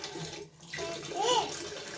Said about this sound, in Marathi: पातीला पाणी भर पातीला त्या चहासाठी पाणी भर